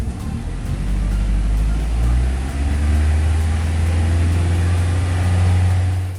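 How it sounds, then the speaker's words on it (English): A car engine idling with a misfire, giving a low, steady hum with uneven pulses and slight surges in loudness, heard alone at close range. "A misfire can make your car shake and sound like an out-of-sync washing machine when you're stopped."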